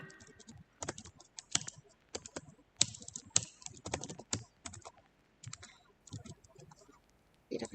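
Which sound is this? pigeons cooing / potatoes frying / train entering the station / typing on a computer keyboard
typing on a computer keyboard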